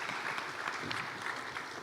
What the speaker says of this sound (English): Let's give them a round of applause as they depart from the stage.